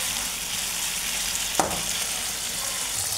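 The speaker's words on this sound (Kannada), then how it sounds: "ಇಲ್ಲಿ ನಾನು 1-2 ಟೊಮೆಟೊ ಮತ್ತು ಈರುಳ್ಳಿನ ಫ್ರೈ ಮಾಡ್ಕೊಳ್ತಾ ಇದ್ದೀನಿ" Onions and tomatoes frying in a pan for biryani give a continuous, dense sizzle heard up close, with a single sharp utensil knock partway through and no voices.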